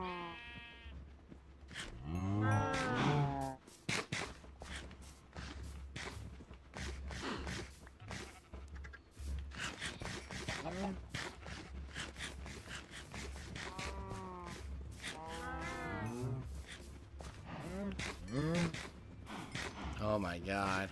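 Minecraft cows moo in the game, several drawn-out bleating calls rising and falling at moderate loudness amid clicking game sounds, with a person talking in between.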